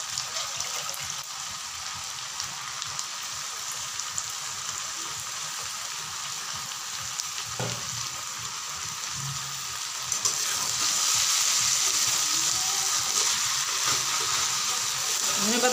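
Small fish chorchori, a Bengali dish, sizzles in a pan after fresh coriander leaves go in. A steady frying hiss runs throughout and grows louder and brighter in the last few seconds, with no talking.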